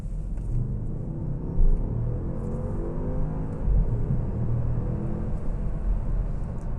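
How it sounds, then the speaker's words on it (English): A 2013 Audi S6 accelerates on a test drive, giving a steady, subdued low engine rumble and road noise from inside the cabin with only a faint rise in intensity and no talk. "how quiet it is as you're accelerating"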